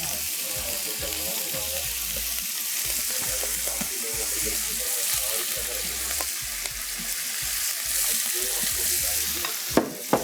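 Green curry paste stir-fried with chicken in a hot pan, a continuous close sizzle with frequent stirring scrapes and a few sharp clacks of the utensil near the end.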